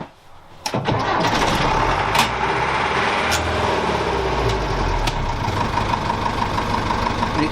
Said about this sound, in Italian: Sentite che bella messa in moto.